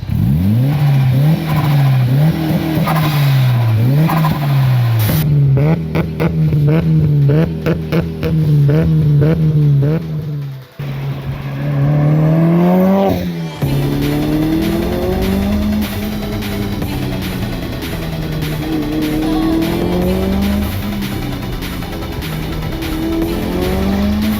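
Mitsubishi Evo engine revving hard and accelerating through the gears, loud and close, with tires squealing and skidding midway and a harsh roar continuing after.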